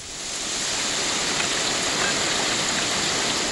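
Heavy rain from Cyclone Nisarga near Mumbai, a loud, steady broadband roar that swells up in the first half-second and then holds constant, with no voices.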